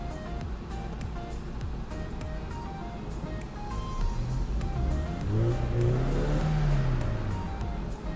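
A Toyota Commuter van engine converted to run on NGV gas revs up from idle with headlights on for extra load, the pitch rising and falling over a steady low drone, close and fairly loud.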